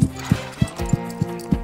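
Hooves clip-clop in a steady, even rhythm of six evenly spaced thuds as a horse moves during a riding lesson, close and clear, with a short snort-like breath heard among the steps.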